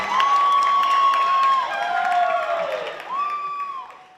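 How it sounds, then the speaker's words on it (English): Loud audience applause and cheering at a nursing school pinning ceremony, a dense crowd roar with whoops and shrill calls rising over steady clapping throughout, easing slightly toward the end. "Thank you so much for your applause"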